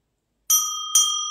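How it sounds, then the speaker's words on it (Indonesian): Two clear, ringing bell strikes, each with a bright metallic tone that lingers and decays after the hit. "Ini lonceng terbesar."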